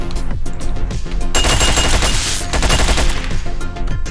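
Loud, close bursts of gunfire in the video game Hotline Miami 2, sharp repeated shots rattling over pounding game music, with no talking.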